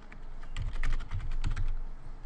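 Fingers type a username and password on a computer keyboard, a quick, close run of light clicking keystrokes with a few slightly heavier taps, no voices.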